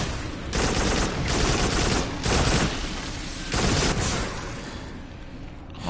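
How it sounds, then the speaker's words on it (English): Gunfire rattles in loud, dense bursts while shooting swarms of small tarantula bugs in the PS VR game Farpoint. Several long volleys of rapid shots are broken by short gaps, with no voices over them. "Shooting at little tiny bugs is not as cool as killing the big ones."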